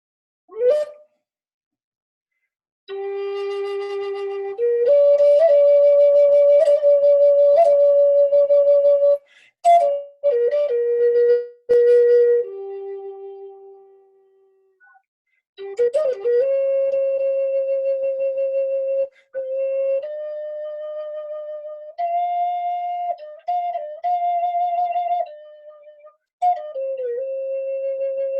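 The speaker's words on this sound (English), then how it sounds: "that's the sound of a traditional native courting flute" A breathy wooden traditional Native American courting flute plays a slow, simple melody of long sustained notes with short pauses, solo and close, each phrase gently sliding between pitches.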